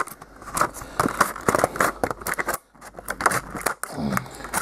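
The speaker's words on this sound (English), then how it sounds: "Well, we simply cut off the lid completely." Scissors cut the lid off a plastic container to turn it into a wet palette, a close series of crisp snipping and crackling plastic sounds with a brief pause partway through.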